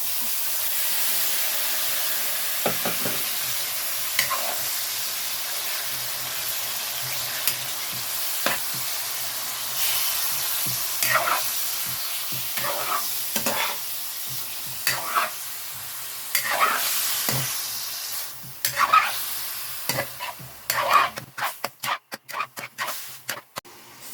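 Pork steak meat sizzles in hot oil in a pan, a steady loud frying hiss with scattered spoon clinks and scraping as it's stirred, busier toward the end.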